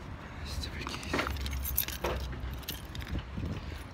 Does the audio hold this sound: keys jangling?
yes